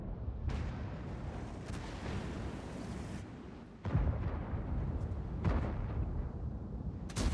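Heavy booming tank cannon shots in a video game cut through a constant low rumble of engine noise, several blasts spaced a few seconds apart.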